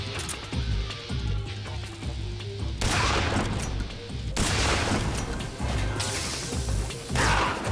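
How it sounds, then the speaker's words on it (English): Gunshots and crashing impacts in the video game Metal Gear Solid 3, several loud sharp bangs spread across a busy stretch of constant game noise. "I'll try fire a shot at him"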